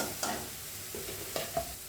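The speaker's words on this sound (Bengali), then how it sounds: "এই দেখুন ভাজা ভাজা হয়ে গেছে, তেল ছাড়ছে। এবার আমি লাউটা এর মধ্যে দিয়ে দেবো।" A spatula stirring fried, oil-releasing masala in a pan as boiled bottle gourd goes in for lau chingri, a soft sizzle under a few sharp scrapes and knocks.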